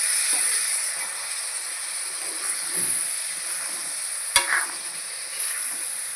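Masala roasting and being stirred in a pan for a papdi val and prawn curry, a soft steady sizzle with faint scraping stirs and one sharp clink partway through, no voices.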